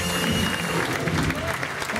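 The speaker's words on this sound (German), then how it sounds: "Einen riesen Applaus." A full hall of people breaks into loud, continuous applause, a thick wash of clapping heard up close with no speech over it.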